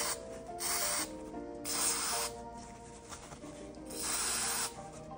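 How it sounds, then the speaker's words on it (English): A can of rust-stopping spray is aimed at a ratcheting tap handle during rust removal. It gives about four short, close hissing bursts separated by brief pauses. "Just get a little spray right there behind the ears."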